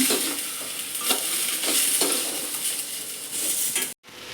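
Tomato, green chilli, ginger-garlic and curry leaves sauté in a pan for paneer butter masala, sizzling steadily while a utensil scrapes and taps the pan in a regular rhythm, followed by a brief cutoff near the end.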